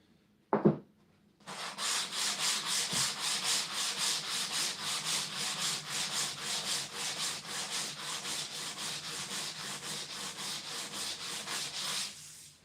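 Someone sands primer on an S13 race car dashboard, with a brief knock and then rapid, rhythmic back-and-forth scratching strokes, close and steady for about ten seconds.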